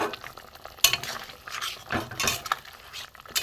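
Fried fish roe fritters dropped into a boiling curry in a pan, with bubbling, sizzling and the clatter of a spoon against the pot in short, uneven bursts.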